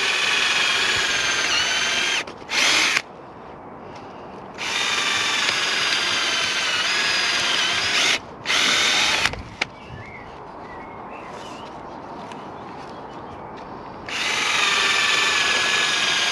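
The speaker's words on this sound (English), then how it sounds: "So I'm putting the drill holes every few inches apart." Bursts of a power drill whine loudly as it bores holes into the wooden door of a polytunnel, with a couple of short stop-start pulses between longer continuous runs and quieter gaps in between.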